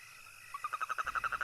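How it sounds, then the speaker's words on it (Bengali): A frog calls at night in a rural village, a near, clear rapid series of about ten rhythmic pulsing croaks that begins after a half-second of near silence and runs alone to the end. "হঠাৎ হঠাৎ ব্যাঙ ডাকছে।"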